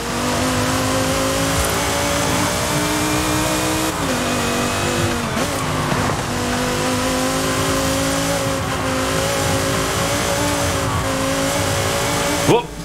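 Race cars in Forza Horizon 5 hold a loud, sustained engine roar for over ten seconds, pitch rising and dipping through gear changes, with brief tire squeals and people talking over the game sound.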